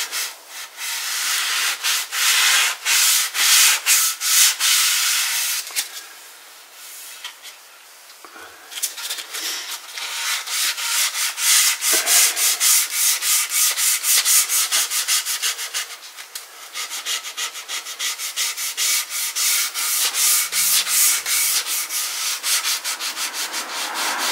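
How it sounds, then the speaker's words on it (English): Close, rhythmic hand sanding of a guitar body with 400-grit sandpaper: quick back-and-forth scratchy strokes in steady runs, with a couple of short pauses between sets. "So this is the 400 grit again, and"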